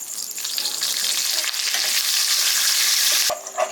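Curry leaves and whole cumin hit the oil left from frying shrimp, a loud, close, continuous sizzle and spatter that carries right through.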